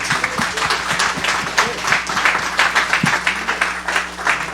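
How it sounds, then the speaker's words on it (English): Steady applause from an event audience for panelists at a startup week talk, a dense wash of many hands clapping throughout with a faint murmur of voices underneath. "Let's give a round of applause to the panelists."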